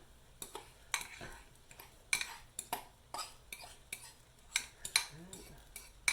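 Spaghetti carbonara is tossed in a pot with raw egg and cheese, giving irregular metallic clinks and scrapes of a utensil against the pot, close and fairly quiet, in scattered bursts.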